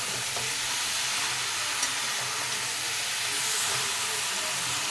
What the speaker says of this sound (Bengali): সবগুলো ছাল দিয়ে দিয়েছি, এবার ভালো করে নাড়িয়ে নেব